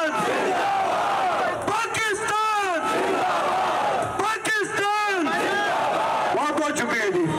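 A large crowd in Pakistan roars back the Naara-e-Takbeer slogan response, loud massed chanting voices in repeated surging bursts with shouted calls between.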